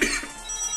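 A single short, raspy cough, close up, with nothing else around it.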